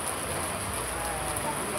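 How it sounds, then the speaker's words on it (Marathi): Steady rain pours at Ujjain near the Mahakaleshwar temple, a dense, even hiss that fills the short moment without a break. "पाऊस पडतोय म्हणून सगळे पण इथं थांबले."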